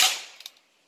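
A Ruger Wrangler revolver fires a single .22 short round, a sharp, snappy crack that decays quickly with a faint echo afterward.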